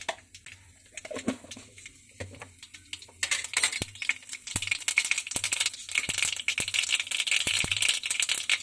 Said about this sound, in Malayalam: എണ്ണ ചൂടായി കഴിയുമ്പോഴത്തേക്കും അതിലേക്ക് കുറച്ച് കടുക്,